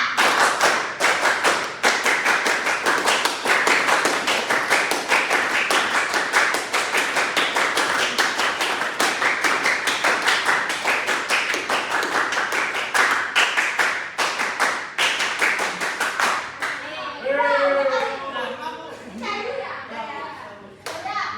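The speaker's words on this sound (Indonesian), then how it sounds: "Kita tepuk pramuka 5 kali." A scout group performs the rhythmic Pramuka clap, a long run of sharp, patterned hand claps repeated by many people over about sixteen seconds, then stopping as young voices chatter and talk.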